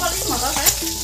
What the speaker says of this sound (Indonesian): Tongkolnya akhirnya digoreng.